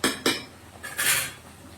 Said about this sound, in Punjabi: ਮੈਂ ਜੀ ਭਾਂਡੇ ਭੁੰਡੇ ਮਾਂਜਨੇ ਆ